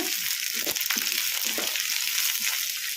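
Capsicum and onions frying over high flame in a pan, a steady close sizzle with brief stirring scrapes and no voices.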